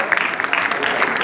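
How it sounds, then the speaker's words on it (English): Audience applauding teachers at a university foundation course event, a brief burst of dense clapping from a room full of people. "So one round of applause for these teachers."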